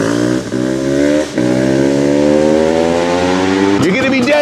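Honda CR500 two-stroke dirt bike engine revving loudly up close, with steady rising harmonics held for several seconds, a couple of brief dips between pulls, and a sharp blip near the end.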